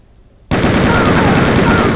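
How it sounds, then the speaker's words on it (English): Machine gun fire in the gangster strategy video game Empire of Sin: a loud, sustained rattling burst that starts abruptly after a brief quiet moment and continues without pause. "That machine gun action."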